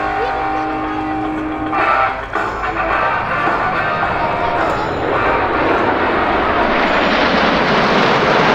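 Saudi Hawks display team Hawk T.65A jet trainers of the Saudi Arabian air force flying at the Sanicole airshow, a loud sustained roaring jet pass that swells and rushes overhead, with a public-address announcer talking beneath it.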